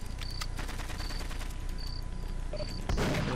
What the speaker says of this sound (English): It was me, I was shooting the radio.